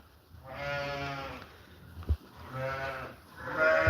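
Karaman sheep bleat close by, three drawn-out wavering cries in a row, with a soft thump between them.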